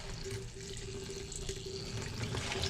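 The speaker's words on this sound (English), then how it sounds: "A little bit of water coming out." Water running from the shower head of a 2005 Jayco Seneca RV into a bucket, a steady close hiss and splash with a faint hum underneath.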